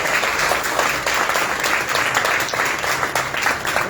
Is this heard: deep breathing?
no